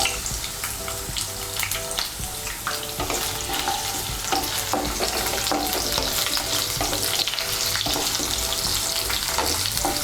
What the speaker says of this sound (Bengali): আলুটাকে একটু নেড়ে নিয়ে এর মধ্যে আমি দিয়ে দেব কাঁকরোল।